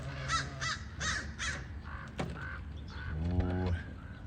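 Crows caw in a short sequence of four harsh, evenly spaced calls, then fainter calls follow at an off-road rock-crawling event, with a low engine rumble and a voice beneath.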